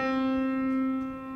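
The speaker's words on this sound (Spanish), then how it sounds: "Resulta que la cuerda entera suena así." A whole monochord string, plucked, gives a single sustained tone with a strong low fundamental and many bright overtones, ringing steadily and close without any voices.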